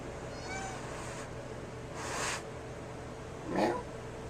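Cats give a few faint, spaced-out meows in a quiet indoor room, with soft background noise between the calls.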